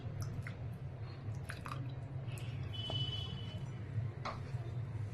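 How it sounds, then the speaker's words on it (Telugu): Water from soaking tamarind is poured into a mixer jar while making a sesame and peanut chutney, giving soft wet splashing and dripping over a steady low kitchen hum. "అది ఇందులో వేసేసి ఈ వాటర్ కూడా ఇందులో పోసేద్దాం"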